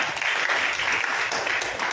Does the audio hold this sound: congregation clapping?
yes